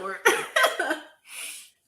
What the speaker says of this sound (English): I was coughing Yeah. up a storm.